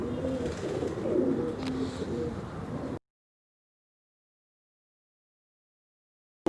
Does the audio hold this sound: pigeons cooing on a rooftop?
yes